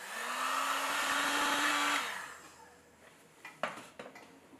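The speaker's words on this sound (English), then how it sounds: "I used a heat gun just for a moment to firm up that new soft clay" A heat gun blows with a steady, close whooshing hum for about two seconds while firming soft clay on a pot, then cuts out, followed by a few light knocks and taps.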